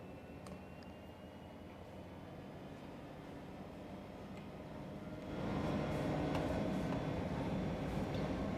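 A diesel freight locomotive on the Sand Patch Grade route in Train Sim World 2 rumbles low and steady, then its engine noise swells noticeably louder about halfway through and holds there.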